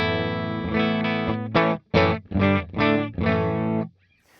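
Electric guitar played clean through a Wampler pedal buffer in a country setting, a short bright twangy phrase of single notes and double stops, close and alone, ending in a faint fade.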